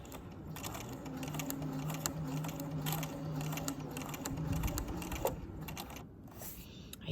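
Sewing machine stitching a seam in fabric at a 5/8 seam allowance, a close, rapid mechanical whir and clatter that runs steadily, then slows and stops near the end.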